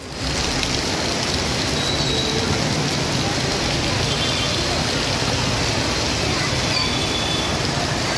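Heavy rain pours steadily over a flooded bus stand at Thiruverkadu in Chennai, a dense, loud hiss with faint traffic beneath, continuous and close.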